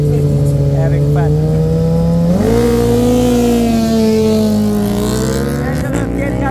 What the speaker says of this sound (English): So we got Ari ZX14 against Angelo on the Super Duke.